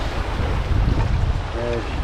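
Strong wind roars across the microphone on a sailboat at sea among waves nearly three meters high, a loud, constant rushing with a brief tonal whine near the end.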